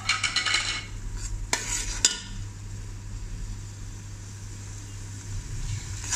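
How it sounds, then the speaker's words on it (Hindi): Chopped tomatoes and ginger stirred in a pan for a dhaba-style pumpkin and lentil curry, with scraping spoon strokes early on and a steady low sizzle running underneath throughout. "अब इनकी भुनाई अच्छे से करेंगे।"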